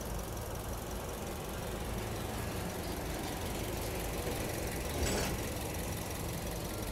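Engine of a 2014 Toyota Vios with manual transmission idles in a steady, low, quiet hum, with a brief brighter rattle partway through and no talking.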